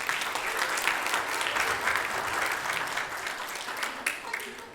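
A church congregation applauds during a Sunday Mass, sustained clapping from many hands in a reverberant room that holds steady for several seconds.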